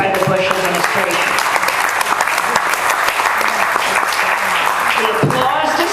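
A festival crowd applauds during a political talk, with sustained, full-bodied clapping from a large audience, even and continuous, with some scattered voices mingling in the background.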